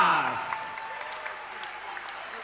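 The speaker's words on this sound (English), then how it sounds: "I'm sure you'll give a big, big round of applause to your runner-up" Crowd at an MMA event applauding runner-up Shaun Lomas after a fight, clapping that starts under a voice and then thins to scattered, fading claps.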